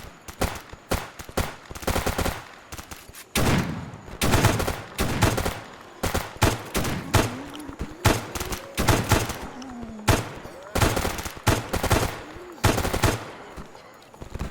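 Bursts of gunfire in the S.T.A.L.K.E.R. mod Escape From Pripyat: repeated loud, close shots and short automatic volleys spread irregularly over the span, with brief pauses and a faint voice in between.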